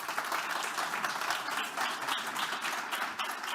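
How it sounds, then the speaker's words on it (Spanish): An audience at a digital health summit applauds to welcome panelists onto the stage, a dense steady burst of clapping from a large crowd lasting throughout. "un aplauso para recibirles"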